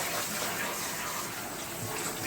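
Water runs steadily from a tap over fabric to rinse excess dye out of ice-dyed material, a continuous close splashing rush with no break.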